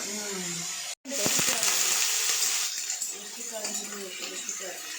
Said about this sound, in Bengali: আলু ভাজা হচ্ছে, আলু ভাজা।